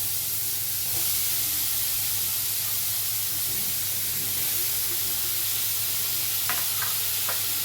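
Tender pointed gourd seeds fry in added oil with a loud, continuous hissing sizzle held close up, a few light utensil taps appearing near the end.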